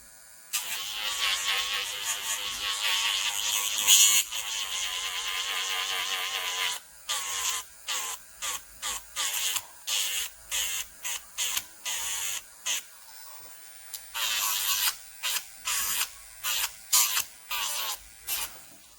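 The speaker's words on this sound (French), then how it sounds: "vous allez prendre votre ponceuse avec votre embout-emery. Le but va être de matifier l'intérieur de la capsule, comme ceci." An electric nail sander fitted with an emery bit buffs and mattifies the inside of a nail capsule, a close, high whirring drone that runs steadily for several seconds and then breaks into short, rapid on-off bursts.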